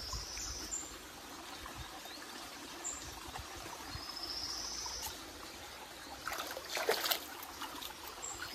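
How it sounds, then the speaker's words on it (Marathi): Water sloshing and trickling as it is stirred and disturbed in an old village well, a steady low splashing with a brief louder stir near the end, with insects chirping faintly in the background. "मुग्धा सर्व हे करते रे, पाणी हलवून वाट लावून टाकते."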